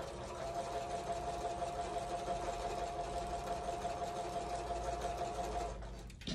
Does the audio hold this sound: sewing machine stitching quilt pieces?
yes